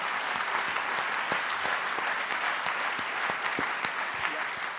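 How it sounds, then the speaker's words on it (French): A conference audience claps steadily throughout, a dense patter of many hands with a few sharper individual claps standing out, moderately loud and continuous. "On peut les applaudir."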